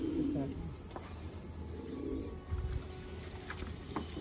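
Pigeons coo softly in a noisy indoor setting alongside a parrot, with low rumbling calls and a few faint chirps against steady background hiss.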